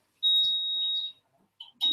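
A ThermoCook Pro kitchen machine's timer signals the end of mixing with a sharp, high electronic beep held for nearly a second, followed by brief quieter clicks and the start of another beep, close and fairly faint.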